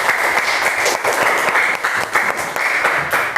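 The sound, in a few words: applause, clapping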